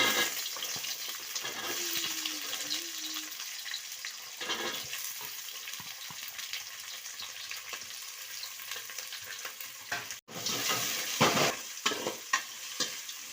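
Onions frying with chana dal in a pan for avalakki chitranna, a continuous soft sizzle with intermittent spoon stirring and a brief clatter, close by and without speech.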